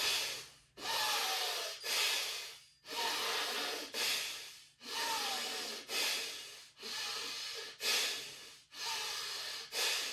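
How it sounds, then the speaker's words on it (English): Rhythmic breathing during a yoga exercise, about eight strong inhale-exhale cycles in a steady fast pace, each breath loud and close with brief pauses between, no talking. "So inhale, exhale."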